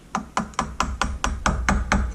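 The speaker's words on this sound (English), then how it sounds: "Use a screwdriver and a hammer. But I'm going to be careful to hit only on the square." A hammer strikes the end of a screwdriver to drive a part into place, about nine sharp evenly spaced taps close up with brief ringing after each blow.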